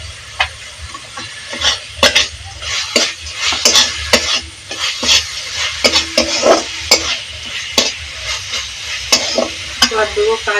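Nuts and raisins sizzle steadily as they fry in a pan, with frequent sharp scrapes and clinks of a utensil stirring them, close and busy throughout.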